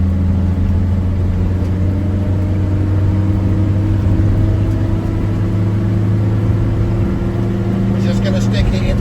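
The engine of a Mercedes 123 car drones steadily while driving, a loud, constant low hum with cabin rumble. It stays even throughout, with a brief rattle near the end.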